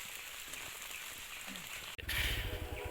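Steady rain hissing across a surface, with a brief dropout before it returns slightly heavier and closer, no voices.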